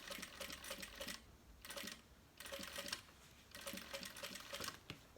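Sewing machine stitching a visible seam on a cell phone bag, heard as several short rattling bursts of stitching with brief pauses between them, quiet and close, with no talking.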